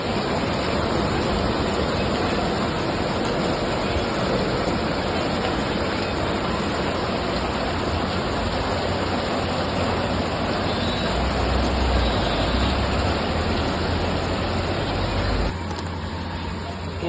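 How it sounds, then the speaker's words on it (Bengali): Heavy rain pours down outside in Bombay during a days-long downpour, a loud, continuous broadband hiss and roar that stays steady throughout and drops slightly near the end. "বোম্বে প্রচণ্ড বৃষ্টি হচ্ছে 3 দিন ধরে"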